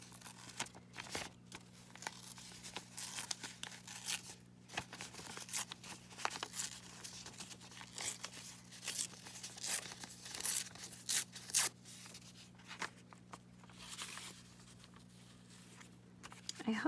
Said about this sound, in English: Go ahead and tear off some of this side without the music